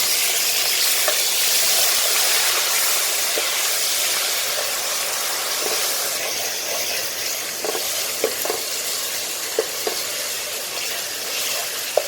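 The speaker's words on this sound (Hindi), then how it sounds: "अदरक, लहसुन और प्याज डाल दी थी मैंने, इसको अच्छी तरह भून लिया है" Ginger, garlic and ground onion fry in a pan with a steady, close sizzle and hiss, broken by scattered small clicks and taps of stirring toward the end.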